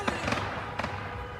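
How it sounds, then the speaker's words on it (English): Fireworks and firecrackers let off in a street during a protest, a few sharp pops and cracks in quick succession, fairly close and loud, with no talk. "Fireworks, some firecrackers let off in the street right there."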